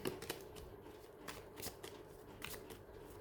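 Tarot cards are shuffled close by, giving a quiet, steady riffle with soft flicking bursts and no talking.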